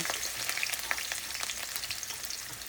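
Onions and garlic fried in oil after a spice tempering, a soft, steady sizzle with light scattered pops and faint stirring, heard close and with no voice over it.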